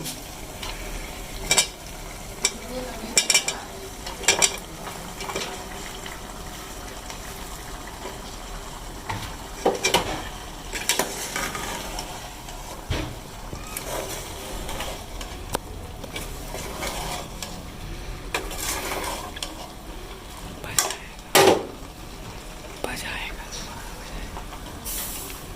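Potatoes, onion, fenugreek and cabbage stirred and frying in spiced masala, intermittent spoon scrapes and knocks on the pan over a soft sizzle, close, with someone talking at times.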